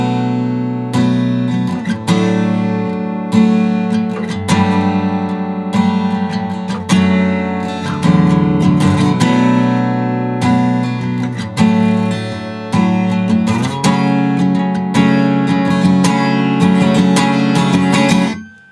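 Guitar playing the bridge of a song, a steady strummed and picked chord progression with regular rhythmic attacks, close and alone for the whole stretch.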